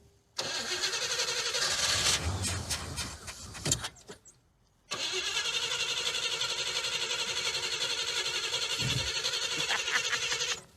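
The engine of a 1972 Plymouth Duster, rescued from a junkyard, cranks and catches with the choke held open, then runs roughly and loudly. It cuts out briefly, then restarts and keeps running steadily.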